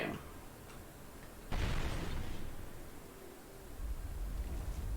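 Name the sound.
fireball spell explosion in a video game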